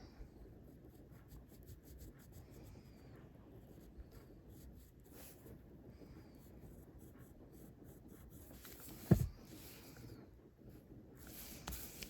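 A beveling tool works across tooled leather with faint, steady rubbing and scraping strokes, quiet and close, plus one sharp tap near the end.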